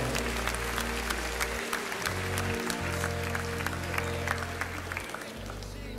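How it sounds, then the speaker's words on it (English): Congregation clapping in praise at a church youth gathering, continuous crowd applause over sustained low organ or keyboard tones, holding fairly steady throughout. "Let's give the Lord a hand clap of praise tonight."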